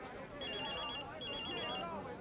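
A telephone rings in a TV drama scene, two electronic trilling bursts of roughly half a second each with a gap between, heard under a faint voice and background noise.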